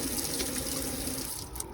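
Water gushes steadily from a cheap RV kitchen faucet into the sink, a loud close continuous rush that stays even throughout.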